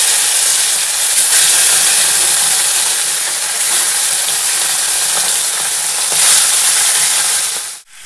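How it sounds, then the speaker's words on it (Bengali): Fish curry with potato, drumstick, ridge gourd and aubergine cooking in a pan, a loud continuous hiss and sizzle with faint stirring scrapes, close and steady before stopping abruptly at the end. "তো এই যে বন্ধুরা আমার মাছের তরকারি বসিয়ে দিয়েছি"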